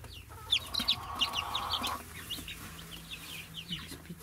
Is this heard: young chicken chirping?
yes